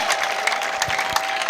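A church congregation at an ADEPR prayer gathering claps steadily, a dense, continuous wash of many hands applauding together in a reverberant hall, with sharper individual claps poking through.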